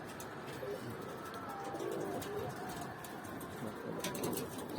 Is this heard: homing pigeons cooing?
yes